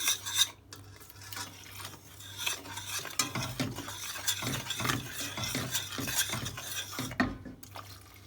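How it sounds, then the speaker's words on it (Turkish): A spoon stirring powdered chocolate sauce mix into milk in a pot, close rhythmic scraping and swishing strokes with light metallic taps, no voices. "Şöyle bir karıştırayım."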